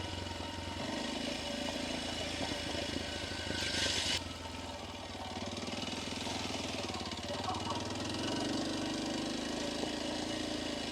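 A Kawasaki KLX230S motorcycle engine runs steadily on a rocky dirt trail, a continuous rough drone with rattling clatter and wind noise throughout, close and fairly loud.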